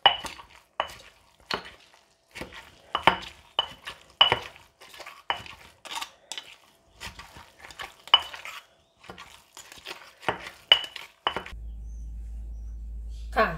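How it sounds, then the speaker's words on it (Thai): Marinated pork being stirred into chili paste in a pan, a run of close clinking scrapes of a utensil against the pan in irregular strokes, followed by a low steady hum near the end. "หมูที่เราหมักไว้ใช่ไหมคะก็เอาลงไปเลยนะคะลงไปคลุกกับน้ำพริกของเราเลยคนให้เขาเข้ากันนะคะ"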